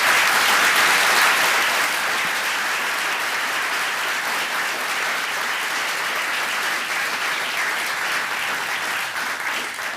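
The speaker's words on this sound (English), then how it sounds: "Let's give them a round of applause" An audience at a city council candidate forum claps for the candidates in loud, sustained applause that stays dense throughout and tapers only slightly toward the end.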